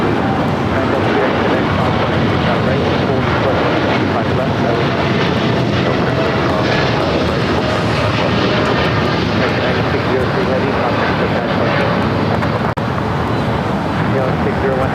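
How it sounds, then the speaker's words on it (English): American Airlines Boeing 787-8 Dreamliner jet taking off at LAX, a loud, steady broadband engine roar filling the whole stretch without speech. "This is American Airlines 9603 taking off to Dallas Fort Worth on a 787-8 Dreamliner."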